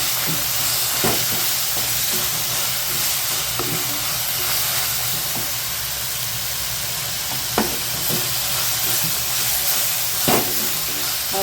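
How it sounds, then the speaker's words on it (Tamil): Coriander and curry leaves sautéing lightly in a pan for a Tamil kara chutney, a continuous close sizzle and hiss with occasional sharp scrapes and clinks of a spoon against the pan. "ஒரு மல்லி கருவேப்பிலை மட்டும் லைட்டாக வதங்கினா போதும்."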